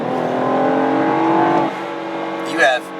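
BMW 428i engine in Sport Plus mode rising in a strong, sustained rev, then easing off. A brief higher squeal or whine follows near the end.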